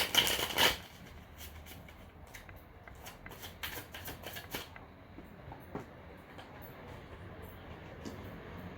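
Tarot cards are shuffled by hand in quick riffling bursts, with a loud, sharp flurry of card slaps in the first second, then lighter, irregular shuffling clicks that continue close by.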